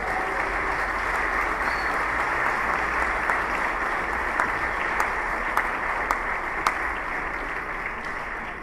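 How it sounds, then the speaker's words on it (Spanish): A church congregation applauds loudly in praise, a broad sustained roar of many hands clapping together, steady throughout with a few sharper claps standing out near the front. "¿Alguien le puede dar un aplauso fuerte al Señor?"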